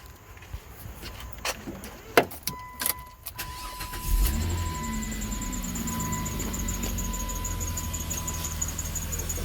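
A 2.7L V6 car engine with overheating, rough idle and misfire trouble starts after a few clicks and knocks, then settles into a steady, continuous idle close by.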